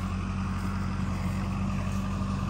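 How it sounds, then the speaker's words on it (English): Tractor engine running while roads are bladed, a steady low mechanical drone with a throbbing idle hum, moderately close and unchanging, with no talking. "Boss man's blading the roads while we got the tractor over here."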